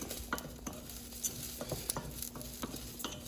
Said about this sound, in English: I'm going to throw in my rice. Here it starts to sizzle.